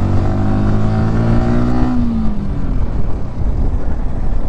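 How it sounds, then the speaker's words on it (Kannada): A 2024 Yamaha R15 V4 motorcycle's exhaust while riding: a loud, steady engine drone that rises slightly in pitch before fading into broadband wind and road rush. "ಎಕ್ಸಾಸ್ಟ್ ಗುರು ಇದ್ರದ್ದು ಹೈ ಡ್ರೈವಿಂಗಲ್ಲಿ ಎಕ್ಸಾಸ್ಟ್ ಅಂತೂ ಮಜಾ ಕೊಡುತ್ತೆ."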